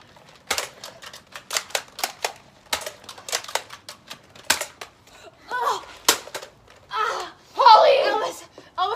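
A rapid string of sharp, dry gunshots in a dramatic 1960s-set film scene, more than a dozen close cracks in quick uneven bursts, ending with a gasp and a louder cry.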